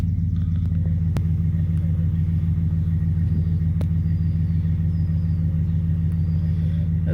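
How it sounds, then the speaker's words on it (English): A truck's engine rumbles at a low, steady idle while it is maneuvered and turned around in a yard, close and continuous, with a few faint clicks on top and no talking. "turn this truck around a little bit better."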